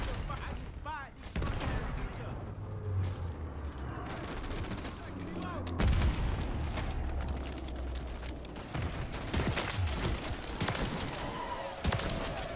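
Reclaimer 18 shotgun blasts in Call of Duty MW3 crack out as loud, sharp reports amid dense game combat noise and booms, scattered irregularly across the stretch, with game sounds thick throughout.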